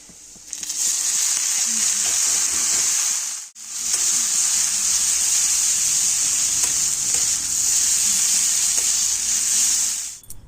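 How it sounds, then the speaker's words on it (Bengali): Radish greens fry in a hot pan, giving a loud, steady sizzle with a brief dip partway through as they are stirred, and no voices. "মূলো শাকটাকে আমি এখন ভেজে নিচ্ছি"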